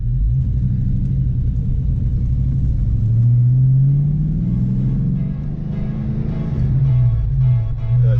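A 1991 Ford Mustang GT Fox Body with a manual gearbox drives and accelerates, its V8 rumbling loud and close from inside the car, the engine note climbing and dipping through gear changes.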